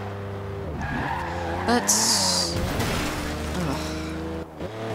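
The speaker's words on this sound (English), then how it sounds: "Okay, so that wasn't a very successful drift." A 2011 Lotus Evora S drifting in Forza Horizon 2, its tires squealing and skidding over a revving engine drone that rises and falls, with a voice talking over it.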